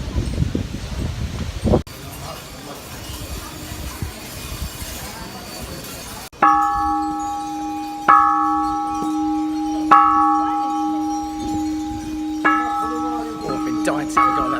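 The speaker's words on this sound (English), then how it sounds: "Dying to get on that stick and bash that bell." A bell in Burma struck with a stick rings out in four resonant, ringing strikes spaced a couple of seconds apart, each sustaining and fading, after a stretch of wind and rustling outdoors.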